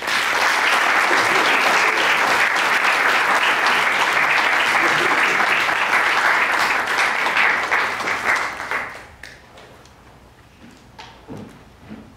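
Loud, dense audience applause greets an award recipient, a humanities teacher of the year, as she comes to the stage at an award presentation. It is sustained for about eight seconds, then fades to scattered claps and quiet room noise.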